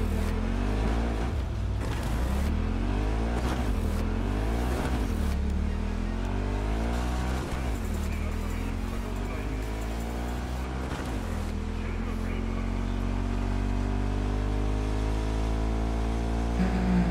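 Motorcycle engine in the video game Cyberpunk 2077, droning loud and steady with repeated rising and falling revs as the bike accelerates and shifts, over a constant low rumble.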